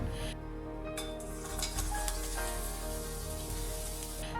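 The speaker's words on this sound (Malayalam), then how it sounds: "എണ്ണ നന്നായി ചൂടായി വന്നാൽ അതിലേക്ക് സവോള അരിഞ്ഞത് ചേർത്ത് കൊടുക്കാം." Sliced onions sizzle and fry in hot coconut oil in a pan, a steady close crackle with a few clinks of a utensil against the pan.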